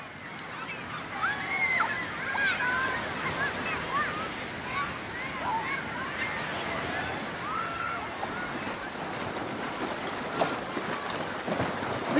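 A sailboat moves across open water, with a continuous broadband rush of wind and water. Faint high chirpy sounds are scattered over the top.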